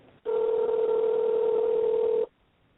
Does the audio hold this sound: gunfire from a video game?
no